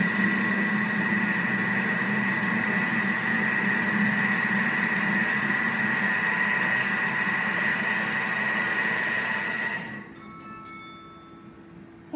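A Thermomix kitchen machine whirs steadily while mixing ingredients for a fish blanquette with butternut, a loud even motor hum that winds down near the end to a quieter residual drone.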